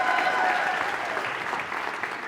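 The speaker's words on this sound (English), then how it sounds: "Let's give him a huge round of applause" A live show audience applauds in a dense, steady wash of clapping that fills the whole stretch, close and fairly loud, with no talk over it.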